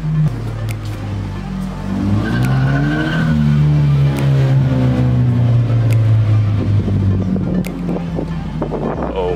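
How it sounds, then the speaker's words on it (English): A Subaru BRZ drives past outdoors, its engine note rising and then falling as it nears and goes by, moderately close, with wind buffeting and faint talk. "I think I hear a BRZ coming."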